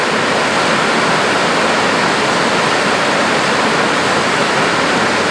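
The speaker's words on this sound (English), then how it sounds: "what we're looking at here is the Fraser River." Rushing water of the Fraser River in British Columbia, Canada: a steady, dense roar of fast-flowing current, loud and unbroken throughout with no voices.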